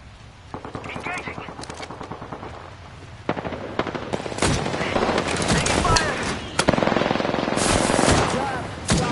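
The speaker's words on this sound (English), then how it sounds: "Getting shot at!" Video game firefight with rapid bursts of automatic gunfire and single shots, loud and near, intensifying toward the end, while voices shout over the shooting.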